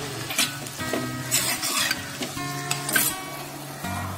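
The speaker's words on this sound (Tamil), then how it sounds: "ஒரு 2 நிமிஷம் ராலை போட்டு நல்லா வதக்கிட்டோம்" Prawns and brinjal being sautéed in a pan for a prawn kulambu, with a steady close sizzle and repeated scraping strokes of a spoon stirring against the metal.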